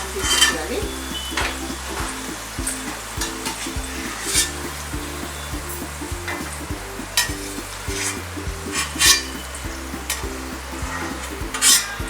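Okra pieces for a crispy Maharashtra-style bhindi fry sizzle in a pan while being stirred, a steady close crackle with repeated sharp scraping strokes and soft music underneath.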